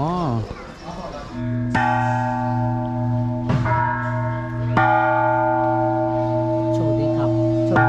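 A temple bell struck at Shwedagon Pagoda in Yangon, Myanmar, rings out in several loud, sustained metallic strikes with long overlapping resonance, and brief voices are heard early on.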